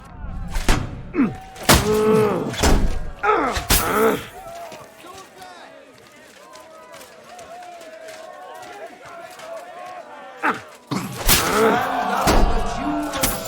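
Sword-and-shield duel in Kingdom Come Deliverance 2, with heavy thuds and clanging impacts in bursts at the start and end, a quieter stretch of ringing in between, and voices talking over the fight.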